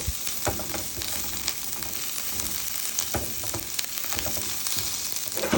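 Mixed seafood with mussels, octopus and crab pieces frying in a pan, giving a loud, continuous sizzle with crackling pops and occasional stirring scrapes throughout, no voices.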